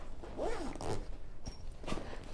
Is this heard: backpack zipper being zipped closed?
yes